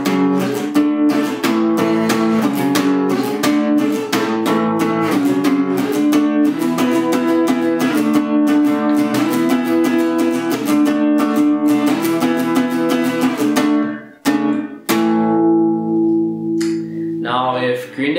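An electric guitar plays a song in the band's usual style: steady, driving, distorted strummed chords for about fourteen seconds, then a final ringing chord and a few picked notes, with no voices.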